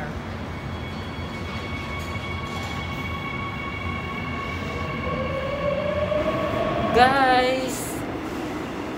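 A subway train in Korea rolls along with a steady rumble and whine inside the car. Near the end a brief rising squeal of wheels or brakes rings out, and a voice speaks briefly.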